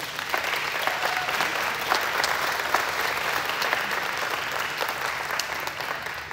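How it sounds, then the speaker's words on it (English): An audience at a pre-K ceremony gives a steady, sustained round of clapping indoors, even and moderately loud throughout. "let's give them a big round of applause"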